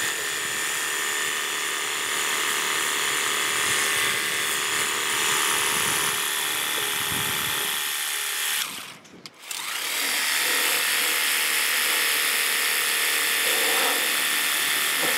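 A Worx Hydroshot cordless pressure washer sprays steadily, blasting grease off with a loud, continuous hiss; the spray cuts out briefly near the end, then resumes at full force.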